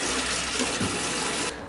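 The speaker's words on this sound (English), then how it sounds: "I put it into the watering can, and then I add my water" Water pours steadily into a watering can, a loud, continuous rushing gush that ends abruptly near the end of the clip, close by and with no voices.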